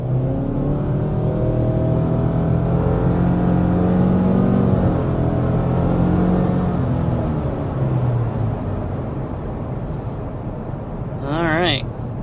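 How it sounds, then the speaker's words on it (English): Subaru Crosstrek with a 2.5-liter boxer four-cylinder accelerating up to speed, heard from inside as a steady engine drone and road noise that rises gradually in pitch, with brief voices near the end. "there we are, accelerating up to speed with this Subaru Crosstrek"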